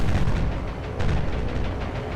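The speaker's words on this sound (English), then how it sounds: "Torpedoes away." Torpedoes launched from a warship in the War on the Sea naval game, a rumbling low-heavy burst with a sharp thump near the middle over steady battle noise.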